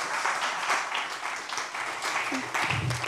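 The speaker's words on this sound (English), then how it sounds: "can we have a round of applause," A crowd applauds speakers at an International Day event, a sustained wash of many hands clapping at steady volume for about three seconds, with a faint voice briefly showing near the end.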